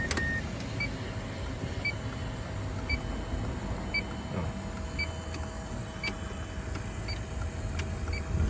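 A used car's ignition is switched on and its air-conditioning blower pushes a steady rush of air, with a soft chime beeping at regular intervals over the even fan hum.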